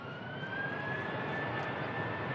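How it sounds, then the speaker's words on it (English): An Airbus A380 jet is heard at a distance, its engines a steady, even roar with a thin high whine that holds through the whole stretch, and no one speaks. "Airbus A380."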